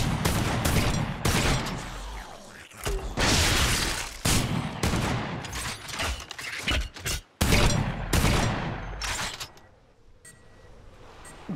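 Dense AK rifle fire in the VR zombie game Dead Ground Arena, with sustained sprayed bursts and booms through most of the clip before tapering into quieter sounds near the end.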